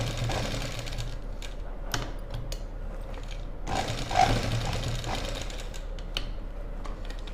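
A sewing machine stitches the lining of a blouse, a close rapid mechanical whirring in short bursts with brief pauses between runs, no talking over it.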